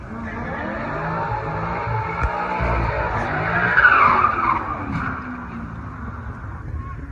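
A Mercedes AMG car doing a burnout, tyres skidding and squealing continuously over a loud engine roar, with the screech swelling midway before settling.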